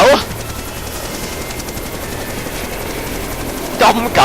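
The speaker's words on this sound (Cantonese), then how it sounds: "邊個開架直升機啊？" A helicopter in a Jurassic Park video game, its rotor thumping steadily with a fast rhythmic chop, with bursts of voice at the start and end.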